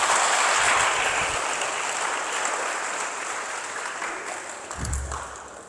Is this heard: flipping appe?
no